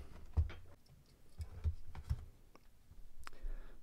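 A Hot Wheels blister card package is cut open, producing a few faint close clicks and snips of cardboard and plastic with short pauses between them.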